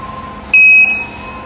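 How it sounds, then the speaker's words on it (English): A Freego E10pro electric scooter gives a short, sharp, high electronic beep that sounds loud and close over faint background hiss. "You hear 2 beeps. It means succeed."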